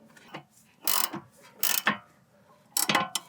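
An 18 mm wrench snugging a front suspension bolt on a BMW E46, giving short bursts of metallic ratcheting clicks separated by brief pauses, close and fairly loud.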